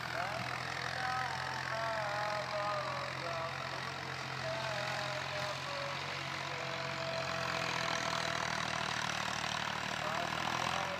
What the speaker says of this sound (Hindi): ये देखें आवाज़ ट्रैक्टर की देखें, क्योंकि जो ना ट्रैक्टर पर लोड आ रहा है तो आवाज़ भी चेंज हो रही है।